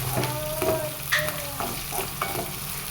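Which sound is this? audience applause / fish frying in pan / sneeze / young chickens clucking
fish frying in pan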